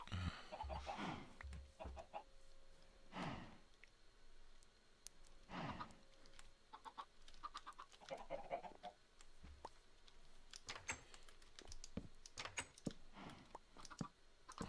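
Chickens in the video game Minecraft cluck in short, scattered bursts, fairly faint over a quiet background with occasional clicks, like keyboard or game input.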